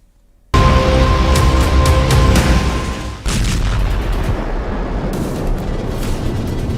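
Explosions during a US military strike on Caracas, Venezuela, at night: a loud boom cuts in after a brief hush, followed by a sustained roaring rumble with a second blast partway through and crackling debris-like noise.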